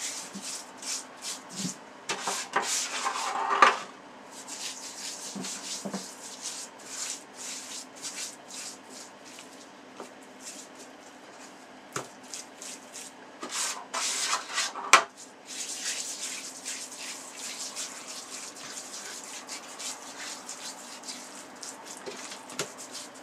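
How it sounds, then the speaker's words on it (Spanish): Marinade rubbed by hand onto a pork loin in a home kitchen, soft wet rubbing and squelching strokes that come and go irregularly, with a couple of sharper clinks of a dish near the start and middle, close and fairly quiet, no talking. "Frotamos bien para que se quede bien pegadito a la carne y coja bien el sabor."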